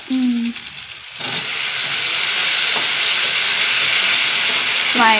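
Tomato dropped into a hot pan, bursting into a loud, steady hiss of sizzling oil that keeps going without a break. A voice is heard briefly just before and again at the very end.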